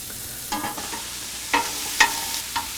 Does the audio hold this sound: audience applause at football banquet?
no